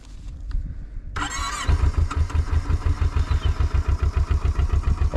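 A motorcycle engine is started in snow at 4,400 m altitude: after about a second of quiet, a brief whirring crank catches and settles into a loud, steady, rhythmic idle that chugs evenly to the end.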